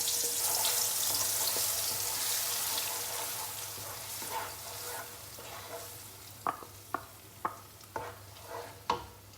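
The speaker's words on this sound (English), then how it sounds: "Fry the blended spices mix." A blended spice paste fries in hot oil for mutton curry (gulai kambing), a loud, hissing sizzle that gradually settles, followed by a series of sharp stirring knocks near the end, with no talking.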